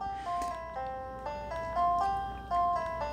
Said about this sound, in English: made a quick little piano loop.